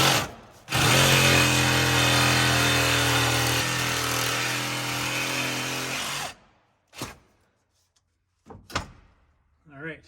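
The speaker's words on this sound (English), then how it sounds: "I think I'm just going to go at it with a Sawzall and just cut the bolts out" A Sawzall reciprocating saw cuts through bolts on a truck-mount carpet cleaning van, a loud, steady, buzzing drone lasting about six seconds before stopping, followed by a few brief clanks and knocks.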